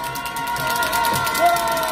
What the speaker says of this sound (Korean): 크게 한번 박수 쳐주시기 바랍니다